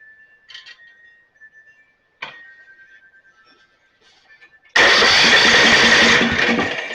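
A Snapper 28-inch riding mower is quiet for several seconds apart from a few light clicks and a thin whine, then its engine suddenly catches and roars loudly and steadily close by.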